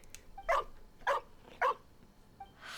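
A dog in Genshin Impact barks three times in an evenly spaced series, short sharp yelps at close range with quiet gaps between them and a soft whine at the end.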